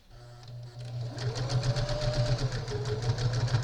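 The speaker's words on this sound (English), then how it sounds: "then I top stitch it with only about, and that's only like a scant 1/4 of an inch." A home sewing machine runs steadily, top stitching a fabric face mask about a scant quarter inch from the edge, its motor hum and rapid needle clatter close and continuous after a brief start.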